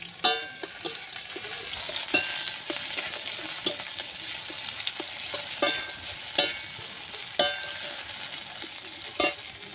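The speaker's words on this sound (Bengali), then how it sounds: "দিয়ে দিলাম পেঁয়াজ কুচি" Chopped onion frying in hot oil, a steady bright sizzle with repeated spatula scrapes and taps at irregular intervals, close and fairly loud.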